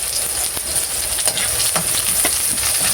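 Garlic and onion sautéing in a pan for eggplant adobo with ground meat, a loud steady sizzle broken by a few scraping stirs of the spatula.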